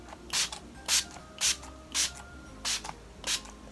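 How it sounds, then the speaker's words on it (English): Six short hissing sprays from a pump bottle of natural finish makeup setting spray come in a steady rhythm, close up, each a brief burst of mist. "this is just a natural finish setting spray"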